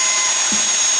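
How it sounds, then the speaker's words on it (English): A power drill whines steadily and loudly up close as it bores through spot welds on a car's outer rocker panel, one brief unbroken burst. "I can see where some of the spot welds are, so I'm going to try and drill through those"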